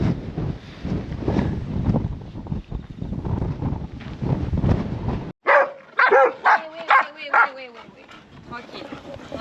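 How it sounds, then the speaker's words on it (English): Several dogs bark in sharp, spaced bursts close by on windy Easter Island (Rapa Nui), following a stretch of loud wind buffeting the microphone along with talking. "There are a lot of dogs here in Rapa Nui."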